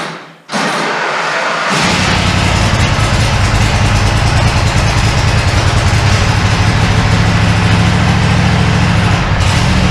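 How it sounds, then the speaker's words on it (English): SCAG zero-turn mower engine inside a shop, running on VP fuel with the choke off, starting after a thump and settling into a loud, steady, rumbling idle held close to the microphone. "I had to take the choke off immediately and it was just idling"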